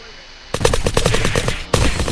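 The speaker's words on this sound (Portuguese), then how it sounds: "Tem um cara ali, tá tentando atirar em mim." Rapid automatic gunfire in the survival video game Unturned, loud and close, a dense burst of shots that breaks off briefly and resumes.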